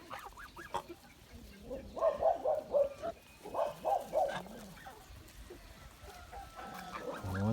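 Three-month-old Kholmogory goslings honk and chatter in a loose cluster of calls near the middle, fairly close, with some lower noise before and after and no speech.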